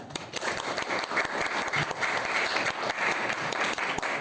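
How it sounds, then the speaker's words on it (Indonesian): Students applaud together in a classroom, giving a dense, continuous round of clapping that holds at an even level throughout, with faint voices mixed in. "Bagus ya, tepuk tangan ya."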